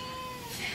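A kitten gives a single short, faint, high-pitched meow at a village home.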